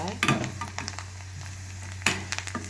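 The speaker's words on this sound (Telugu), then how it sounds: "వెల్లుల్లిపాయలు ఉల్లిపాయలు జీలకర్ర నెక్స్ట్ ఏంటంటే ఎండుమిర్చి కరివేపాకు పోపు పెట్టాను" Garlic, onion, cumin, dry red chillies and curry leaves fry in hot oil for a tempering, giving a steady close sizzle with a couple of sharper crackles and utensil scrapes.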